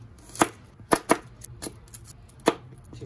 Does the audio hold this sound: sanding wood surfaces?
no